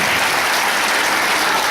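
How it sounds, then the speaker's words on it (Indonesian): Audience applause at a talk on stress management for university study, a short dense burst of clapping from a crowd. "Tepuk tangan."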